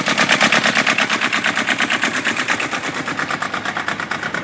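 A small Kubota diesel engine runs steadily nearby, its loud, rapid pulsing knock continuing evenly throughout with no voices.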